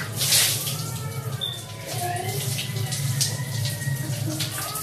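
Water poured over twins at bath time, a running splash from a tap or dipper into a tub, fairly close and continuous with a brief lull before resuming, under a parent's soft talk.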